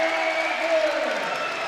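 A Maryland home crowd at a Big Ten college wrestling dual against Purdue rises in steady, broad cheering and applause after a takedown, a continuous roar filling the arena with no clear voice in front.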